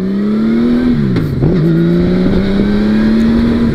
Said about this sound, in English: The engine is super smooth on this bike.